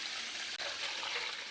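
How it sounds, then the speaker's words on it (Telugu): Water pours onto washed ragi grain in a container to set it soaking, a soft, steady splashing hiss lasting under two seconds with one tiny break, quiet and close. "ఇప్పుడు నానబెట్టుకుందాము వాటర్ పోసుకొని."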